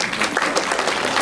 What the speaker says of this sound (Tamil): நாம் பிறருக்கு கொடுக்கக்கூடிய மிகவும் சுலபமான எளிமையான பரிசே கைத்தட்டல் தான்.